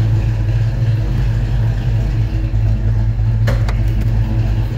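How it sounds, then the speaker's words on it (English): A 1995 Ford Mustang GT engine rumbles with a deep, loud exhaust note up close, holding a steady idle throughout. "Got some nice sounding exhaust."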